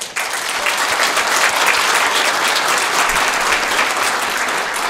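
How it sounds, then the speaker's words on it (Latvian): Crowd applause in Riga breaks out abruptly and holds as a thick, loud, continuous roar of clapping from many hands, with no voices over it. "Aplausi meitenēm!"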